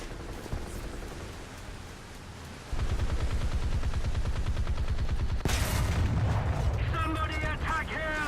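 Ship guns fire in a naval video game, with a dense, rapid rattling burst of repeated shots that starts partway through and continues loudly, followed by sharp booms and game sounds, while players talk over it.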